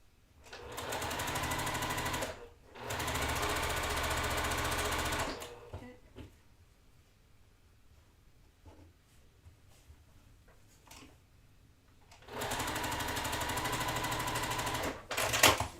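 Sewing machine chain piecing quilt block pieces in rapid continuous stitching runs, loud and close, with a long quiet pause of faint handling clicks before another steady stitching burst.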